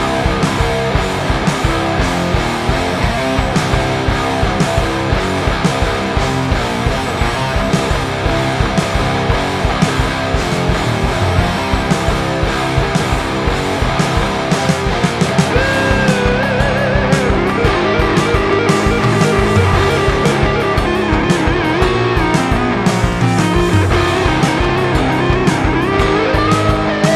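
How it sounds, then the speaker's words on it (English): Thick, distorted fuzz electric guitars, dual-tracked PRS SC245 through a Hyspec Handwired StonerDrive distortion pedal, play a dense riff throughout, loud and layered, with a steady driving rhythm and no voices. "So what you heard there were dual track guitars."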